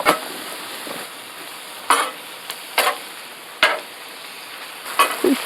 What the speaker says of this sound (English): These should be frying for about 5-6 minutes.